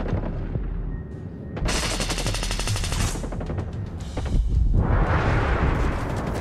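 Rapid bursts of automatic gunfire rattle loudly in Ghost Recon Breakpoint, followed by a deep rumbling blast of exploding gas that swells and lingers.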